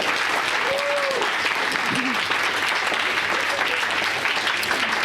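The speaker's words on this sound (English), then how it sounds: "let's have one more round of applause for Evan Narcisse." A lecture audience breaks into sustained applause, a dense steady wash of clapping from a crowd indoors, with a voice briefly audible through it.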